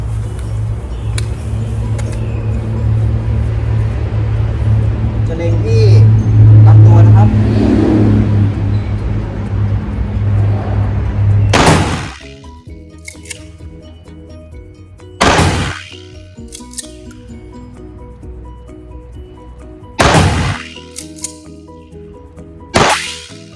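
Five gunshots from test firing a Benelli Supernova Tactical shotgun with a 14-inch barrel, beginning with a sharp loud blast followed by four more spaced a few seconds apart, each a crisp crack with a short decaying tail.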